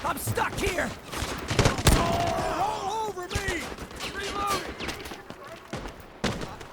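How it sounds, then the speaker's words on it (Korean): Rapid bursts of gunfire in the video game Delta Force crackle in the background, with scattered shots and whistling effects, while people talk over it in Korean. "여기 총소리 많이 난다"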